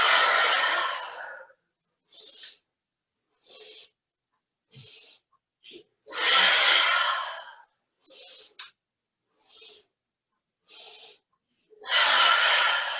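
Deep yoga breaths in a hips and lower back session: long, loud airy exhalations at the start, middle and end, with short sniffing inhalations between them, close and without talk.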